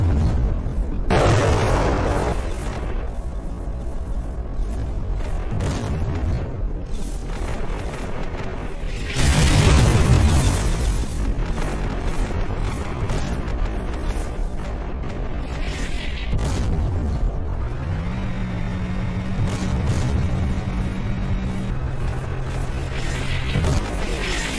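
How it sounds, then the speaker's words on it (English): An assault breacher vehicle fires a MICLIC mine-clearing line charge, giving repeated deep booms and blasts over a steady rumble, with a heavy surge near the middle and a low engine drone toward the end. "The ABV again moves forward, fires its second Miklik, and begins plowing the lane."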